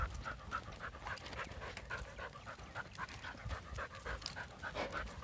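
Roxie the dog pants heavily and rapidly on a walk, a close, continuous rhythmic huffing that keeps going without pause amid light outdoor background noise.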